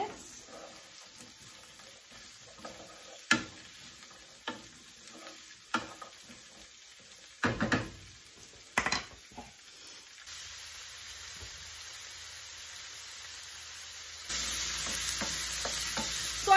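Hello Fresh meal-kit vegetables sizzle in a pan with a steady frying hiss, broken by occasional utensil scrapes and clinks, the sizzle growing louder toward the end.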